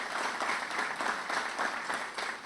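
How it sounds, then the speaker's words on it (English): Applause for government employees at the opening of a new international arrivals facility, steady crowd clapping heard at moderate distance throughout. "Give our government employees another round of applause."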